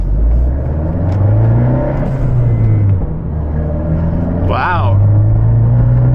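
The turbocharged engine of an Abarth 124 Spider rumbles and pulls under acceleration, its pitch rising as it revs, while a driver speaks briefly over the steady road noise.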